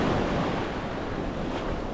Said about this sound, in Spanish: por esto, por las olas.